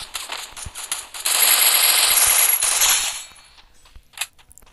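Rapid automatic gunfire from the Free Fire mobile game rattles out in a dense two-second burst after a few scattered shots, then fades into quieter clicks and a single sharp report, with no talking.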